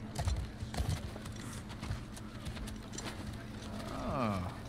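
Horse hooves clip-clop faintly in an irregular rhythm in The Last of Us Part II, mixed with low game background noise and a soft voice near the end.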